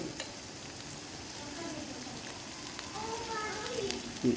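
Spices sizzle and fry in a pan for a prawn malai curry, ginger, cumin paste and coriander powder sputtering in a steady, close crackle with a few brighter pops near the end.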